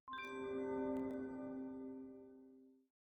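A bright bell-like chime rings out as a Catholic channel's intro jingle, one sustained struck tone with layered overtones that swells, holds and fades away cleanly over about three seconds, alone with no voices.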